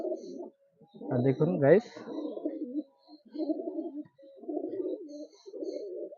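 Pigeons coo in a loft, soft throaty calls rising and falling close by while someone talks over and between them.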